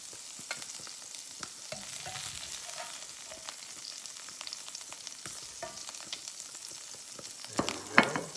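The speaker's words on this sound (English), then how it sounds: "That is cooking burgers and sausages on the 9-inch" Burgers and sausages sizzle and spit steadily in a pan on a portable 9-inch Blackout stove outdoors, a continuous close frying crackle that swells into a louder burst of spattering near the end.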